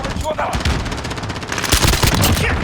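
Rapid bursts of Uzi fire at a shooting range in Call of Duty Modern Warfare, dense automatic cracks in quick succession, loud and close, building to heavier firing near the end.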